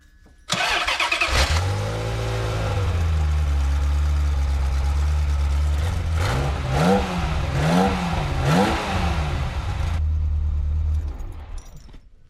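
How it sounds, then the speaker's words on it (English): A Ferrari F355 V8 engine starts and settles into a rough, uneven, misfiring idle, with rhythmic stumbles in its low rumble before shutting off. "It's definitely misfiring at idle."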